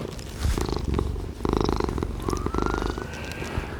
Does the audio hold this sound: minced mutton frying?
no